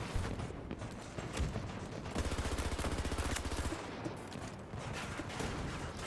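Sustained automatic gunfire in Escape from Tarkov, a long rattling burst of shots at moderate distance with scattered single reports before and after, little talk over it.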